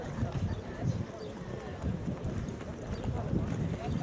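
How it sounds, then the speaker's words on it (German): Horses trotting in a riding arena during a group dressage ride, a steady muffled clip-clop of hooves with a faint whinny, continuing throughout under an instructor's spoken commands. "Abteilung im Arbeitstempo Trab auf dem Zirkel geritten."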